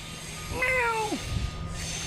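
A fluffy white cat gives a single clear, close meow, rising then falling in pitch, over a faint background hum, with no voices.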